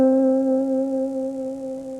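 One electric guitar note from a blues scale is held with a quicker vibrato, sounding loud and sustained before tapering gently toward the end.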